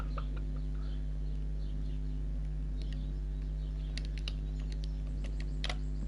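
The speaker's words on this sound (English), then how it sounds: "Right, this chicken's called Mr. CV." Chicken in the Stardew Valley farming game, giving short, faint clucks over a steady low hum and background game ambience, with a few sharper clicks scattered through.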